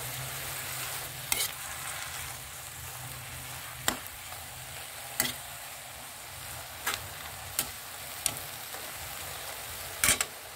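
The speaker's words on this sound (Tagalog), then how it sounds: "habang niluluto ng toyo ang kangkong" Kangkong (water spinach) frying with soy sauce in a pan, a steady loud sizzle throughout, punctuated by occasional sharp utensil clinks from stirring at irregular intervals.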